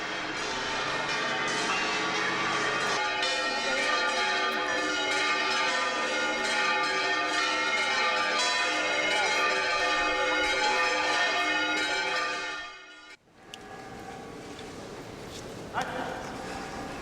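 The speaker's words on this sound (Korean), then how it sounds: "일요일 아침, 세비야 대성당의 종소리가 9시를 가리킬 때" Bells of Seville Cathedral ring out at nine on a Sunday morning, a dense, sustained peal of overlapping tones that fills the air, then cuts off sharply, leaving quieter outdoor ambience with a faint later knock.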